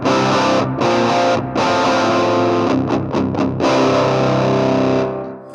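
Guitar tuned down to drop C played through the Sparkling Overdrive on a Hotone Ampero amp modeler, giving loud, thick distorted chords that ring steadily, with a few brief choppy gaps mid-phrase before the last chord fades, no voices.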